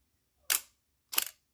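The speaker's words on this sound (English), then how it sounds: "So right now, fully charged, shutter will fire." An Asahi Pentax S3 camera shutter fires twice, each a sharp, crisp mechanical snap about half a second apart, close and isolated in quiet.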